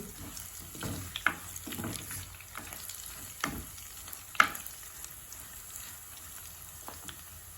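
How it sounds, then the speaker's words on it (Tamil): Cinnamon fries in hot oil while a spoon stirs it in a pan for a chicken dish. The sizzle is soft and steady, with a few sharper scrapes and clinks of the utensil against the pan. No one speaks. "கருவா சேர்த்து வதக்கினா ஒரு கொஞ்சம் ஸ்பைசியாக இருக்கும்."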